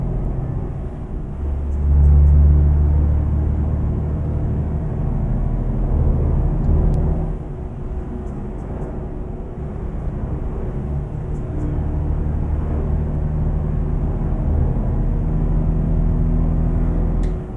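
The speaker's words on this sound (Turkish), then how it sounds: "Şöyle biraz hızlanıp son bir retardar patlatalım abi şöyle." A heavy truck's engine and retarder braking in Euro Truck Simulator 2 on a Turkish route: a steady, loud low rumble that swells briefly, then settles into a continuous droning hum with no talk.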